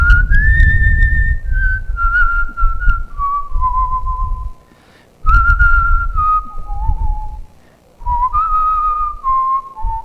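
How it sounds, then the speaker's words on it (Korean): A man whistles a hymn melody solo, clear sustained tones gliding between notes in slow phrases separated by short pauses for breath, close and fairly loud. "저는 그때 휘파람으로 찬양합니다."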